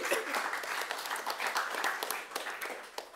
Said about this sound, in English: you can also welcome him with a warm round of applause